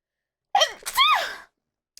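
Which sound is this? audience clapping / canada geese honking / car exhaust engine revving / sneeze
sneeze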